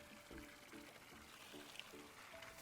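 A frog-shaped watering can pours water in the video game Wanderstop, a soft, faint trickling splash beneath light game ambience and small chiming tones.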